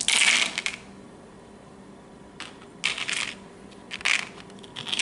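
Dice rolled across a tabletop during a Warhammer 40k battle, several separate bursts of clattering plastic that tumble and settle, each rattle standing clearly out of a quiet room.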